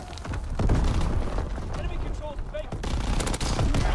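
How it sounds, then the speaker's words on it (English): Artillery strike in a Call of Duty match, heard as a dense volley of gunfire and explosive booms that keeps up loudly for the whole stretch, with game effects mixed in. "Artillery strike coming in at A."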